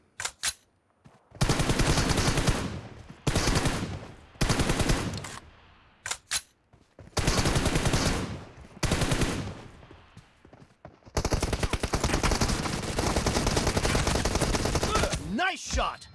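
M416 assault rifle fire in a mobile shooter team deathmatch, loud close bursts of rapid automatic shots separated by short pauses, then a longer sustained burst near the end.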